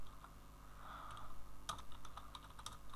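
Keys clack as CSS code is typed on a computer keyboard, a light run of scattered clicks, with a few firmer taps near the end, over a quiet background hum.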